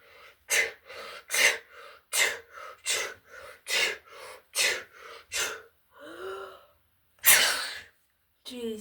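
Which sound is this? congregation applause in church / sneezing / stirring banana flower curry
sneezing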